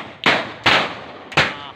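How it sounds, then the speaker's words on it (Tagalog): Firecrackers go off one after another at close range: three sharp, loud bangs, each followed by a short crackling decay, about half a second apart. "Sunod-sunod na putok nila, parang baril rin."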